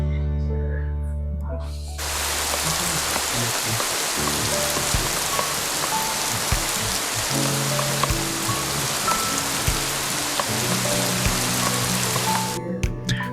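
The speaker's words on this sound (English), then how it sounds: "There was another rainy night." Steady rain falls at night near standing water in a deer area, captured by a trail camera: a dense, loud hiss of drops on surfaces that starts abruptly and runs on evenly, with low hum beneath and speech-like sounds intermittently present.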